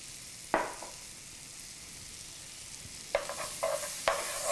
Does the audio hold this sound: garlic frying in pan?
yes